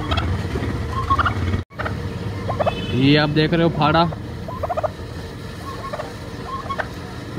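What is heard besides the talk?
turkeys gobbling in a cage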